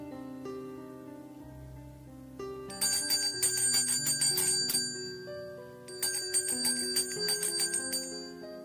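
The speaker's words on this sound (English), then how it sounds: "The bell tinged." Bell ringing with bright, repeated metallic tones over a soft sustained musical background, coming in two clustered bursts of ringing.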